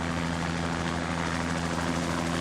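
Steady drone of a drug-enforcement helicopter in Mexico, rotor and engine loud and continuous throughout with a constant low throbbing hum.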